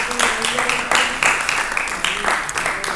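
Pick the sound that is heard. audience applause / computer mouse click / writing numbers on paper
audience applause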